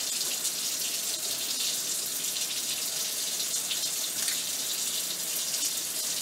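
Steady running water pours into a sink throughout as hands are scrubbed with 2% chlorhexidine surgical scrub up to the elbows, an even, continuous hiss with no voices.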